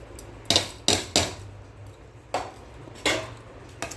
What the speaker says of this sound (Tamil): இந்த அரிசியை அதில் போட்டுருவோம்